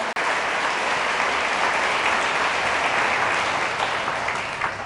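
A church congregation applauds the Lord, loud dense clapping filling the space steadily for several seconds without a break.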